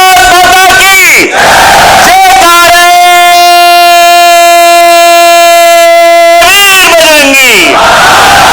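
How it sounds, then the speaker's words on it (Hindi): A large crowd at a training session chants a patriotic slogan in unison, loud, sustained voiced shouts swelling and falling, with a long held note in the middle. "एक बार भारत मां की जय करते हैं"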